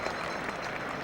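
A very big cricket crowd at Lord's applauds a good stroke, a dense, even patter of clapping heard at a distance for a brief moment.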